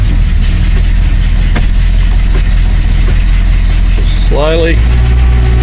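A Holden car with a Trimatic automatic transmission idles steadily and loudly up close as the gears are shifted through, with a short rising engine note near the end and a voice speaking briefly.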